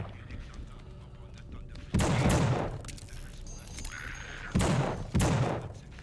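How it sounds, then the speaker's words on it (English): Enemy gunfire in the horror game The Suffering arrives as two dense, booming bursts of rapid shots over a constant low rumble, loud and close, with a voice talking faintly beneath. "plus they shoot. They shoot too."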